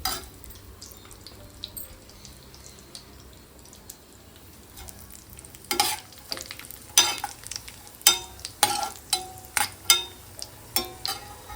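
Cashews and raisins frying in ghee and coconut oil over low heat, a soft steady sizzle joined midway by sharp clinks and scrapes of a spoon stirring in the pan, close up with no talking.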